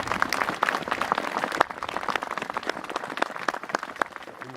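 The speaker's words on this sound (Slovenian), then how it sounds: "Spoštovani, kar zaploskajte, ja." Crowd applause at a Slovenian Army ceremony in Kočevska Reka, dense rhythmic clapping from many hands that thins and fades toward the end, with faint voices underneath.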